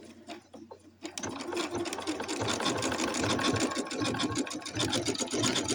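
A Janome Skyline S7 sewing machine stitches an applique, starting after a second of quiet and then running continuously in a fast, even mechanical chatter, close and clear.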